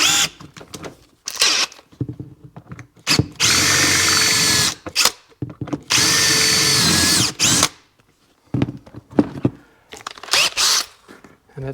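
Close power drill bursts with a bigger bit, some brief and a few sustained for a couple of seconds, whining as it drills out a rivet on a 2001 RXDI seat, separated by short silences.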